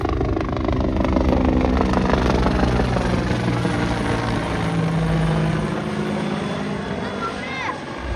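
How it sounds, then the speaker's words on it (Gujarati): A steady, loud rotor and engine drone from a helicopter circling overhead at Dumas beach, Surat, fills the whole stretch, with people talking underneath. "ઉપર આટા મારે છે ભાઈ હેલિકોપ્ટર"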